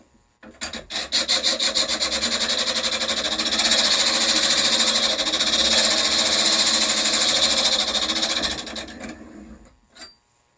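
A hand-cranked grinding wheel sharpens a steel chisel held in a guide on the tool rest, giving a loud, continuous, close rasping grind with a fast rhythmic pulse that runs for about eight seconds before stopping.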